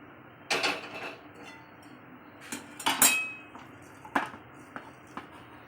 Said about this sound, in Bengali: খুন্তি দিয়ে চারিদিকে ছড়িয়ে দিলাম